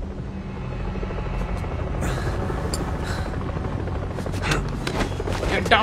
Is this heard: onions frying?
no